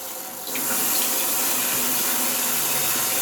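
Kitchen tap water runs steadily into a sink for washing rice, starting suddenly after a brief quiet moment and then flowing as a constant close hiss with no talk.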